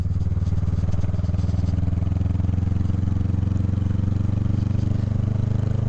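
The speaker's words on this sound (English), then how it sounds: "I understand what Jess means when she says suspension is incredibly important for your bike" A motorcycle engine drones loud and steady as the bike rides along a bumpy winter road, its even rumble holding throughout with no talking.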